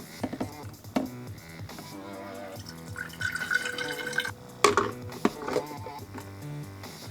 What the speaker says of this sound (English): Put the water in the top.